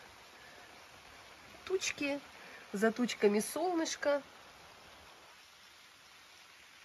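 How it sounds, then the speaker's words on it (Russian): Steady soft rain hisses throughout, a constant wash of patter, while a person speaks briefly over it in the middle. "Раз и дождик."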